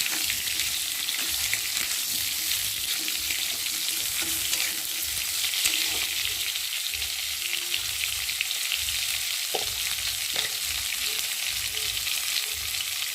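Chopped ridge gourd frying in hot oil while being stirred, a steady bright sizzle with scattered scraping clicks of the spoon throughout.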